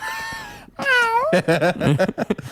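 A person imitates a cat, giving a drawn-out falling meow followed by a run of shorter, wavering mewing cries, loud and close with no other sound behind.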